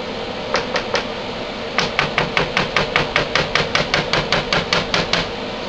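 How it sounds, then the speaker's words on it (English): Typing on a computer keyboard in the background of a resin mold-making workshop: rapid rhythmic clicks in regular bursts, a short run then a longer, steady sequence of evenly spaced taps over a constant hum. "Now you can probably hear all manners of typing going on in the background."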